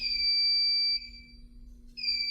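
An alarm system in an abandoned restaurant kitchen emits high, steady electronic beeps, one long tone, a short pause, then another starting, over a faint low hum in an otherwise quiet room.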